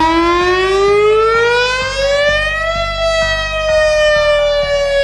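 WS1000 warning siren wailing loud and close, its steady tone rising slowly in pitch then holding and easing slightly, with a faint rhythmic mechanical pulsing beneath.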